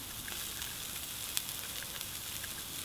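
Courgettes and sweet potatoes sizzle steadily on a hot plancha, a soft continuous hiss with faint pops, heard alone and fairly quiet.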